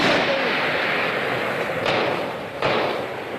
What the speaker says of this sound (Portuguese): a gente ouve o tiroteio, o confronto dos traficantes e policiais militares